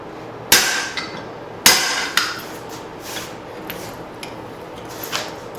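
Hammer blows on hot steel at the edge of an anvil while forging an axe: two sharp ringing strikes followed by lighter taps and rebounds, close and alone.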